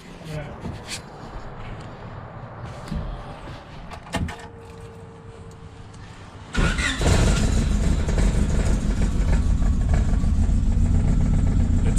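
A Honda engine swapped into a Mini estate cranks and catches at about six and a half seconds, then settles into a loud, steady idle after a stretch of quieter clatter and people talking.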